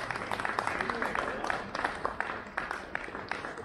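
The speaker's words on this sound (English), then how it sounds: "Let's give a nice warm applause for the Nicola Farnon Trio." Applause from an outdoor theatre courtyard audience for a jazz trio, brisk, moderately loud clapping from a crowd that carries on steadily and begins to thin toward the end.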